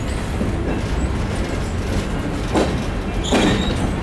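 Train cars rolling along the track through Railroad Junction at Greenfield Village, a continuous loud rumble with a couple of brief bright squeals or clacks near the end.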